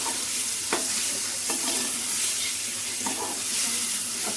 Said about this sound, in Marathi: व्यवस्थित परतून घ्यायचे आपल्याला.